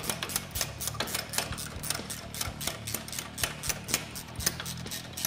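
Brake caliper hardware on a Polaris ATV is tightened, giving a rapid, regular series of sharp clicking ratchet strokes, close and fairly loud, with no talking.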